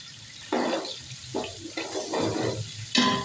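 Onion, chicken and garlic paste sizzle and crackle in a hot pan, with several bursts of stirring and scraping that swell and fade over a steady background hiss.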